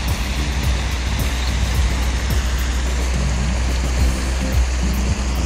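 Broad, steady rushing of river water flowing close by, a loud continuous wash with faint low rumbles underneath and no voices.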